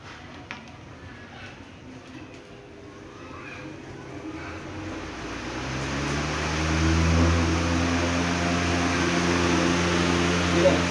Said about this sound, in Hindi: अब मैं इसको पंखे को चला के